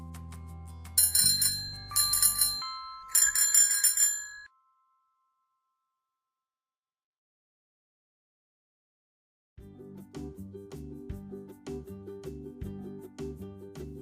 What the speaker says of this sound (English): Bicycle.